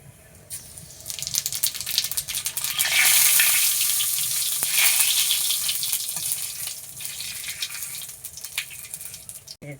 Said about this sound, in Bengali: দিয়ে এই তেলটা যখন গরম হয়ে যাবে তখন কটা জিরে দেবো